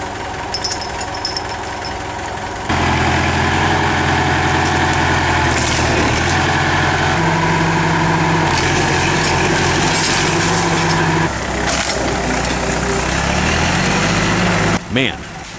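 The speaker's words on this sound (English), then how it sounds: "Man, they are really forcing this old tractor to the limit." An old tractor engine strains hard under load while pulling out a tree stump, a loud, steady low rumble running throughout with shifting pitch, and voices can be heard over it.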